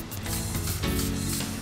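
Cooking spray mists from a can onto paper liners in a muffin tin, a close, steady hiss lasting a second or two.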